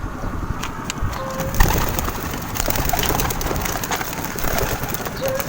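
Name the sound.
pigeons cooing during a pigeon training toss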